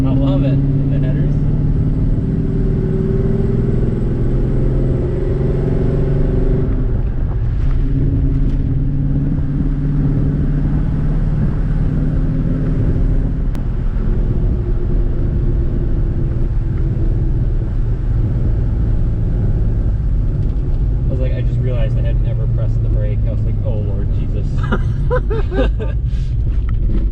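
A Mustang engine fitted with headers and an X-pipe exhaust rumbles loudly and steadily at close range, with deep low throbbing throughout and a voice talking over it.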